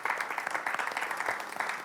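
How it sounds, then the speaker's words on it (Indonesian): Brief, moderately loud audience clapping on an Indonesian television show, rapid uneven claps blending into a short burst of applause. "kita boleh tepuk tangan untuk Ruben terlebih dahulu"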